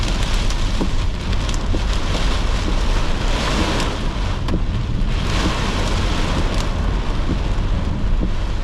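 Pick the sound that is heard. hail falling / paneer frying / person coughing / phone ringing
hail falling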